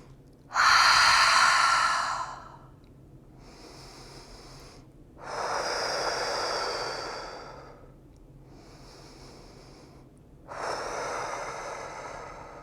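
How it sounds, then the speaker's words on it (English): Deep, slow breaths during a yoga session: two long loud exhales with softer inhales between, then a third exhale, airy and close with no talking. "Give yourself a breath."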